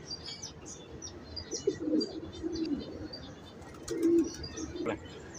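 High flyer pigeons on a Lahore rooftop coo in low, soft murmuring phrases, with faint chirps above and a couple of louder coos near the middle and end, moderately close, no talking.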